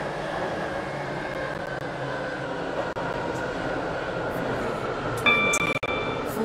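Train pulling into a station in the Roblox rail game SCR, a steady rumbling rolling hum with brief clunks and a short tonal chime near the end.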